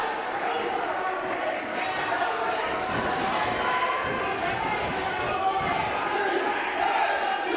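A pro wrestling crowd roars continuously in an arena, rallying behind a wrestler, with thuds from the ring and commentary voices running under the din.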